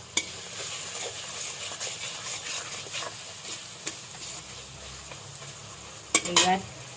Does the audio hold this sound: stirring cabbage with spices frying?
yes